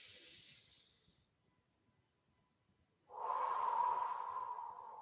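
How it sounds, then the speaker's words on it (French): Slow, deep breaths during a guided breathing exercise: a long airy exhale fades out, a quiet pause follows, then a strong, close inhale or exhale begins, with no talk. "Inspire, expire lentement à nouveau, une dernière respiration."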